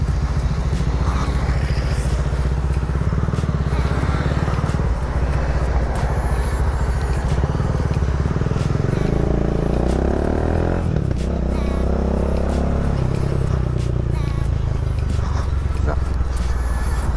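A Bajaj Dominar 400 big bike is ridden on the road, its engine droning loud and steady with rising and falling revs over constant wind rush, while a rider talks throughout.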